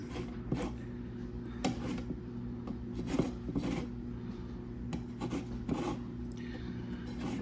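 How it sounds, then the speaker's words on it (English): A lemon is rubbed over a rasp-style zester before squeezing, making soft, repeated scraping strokes at an irregular pace over a steady low background hum, with no talk. "it rasps much easier if you do rasp it before you squeeze it"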